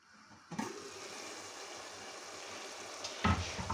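Cabbage and mint stirred in a pan for a home-cooked dinner, giving a steady close sizzle with scraping stir strokes, a louder clatter near the end.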